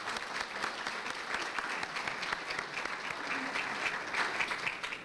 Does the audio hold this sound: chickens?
no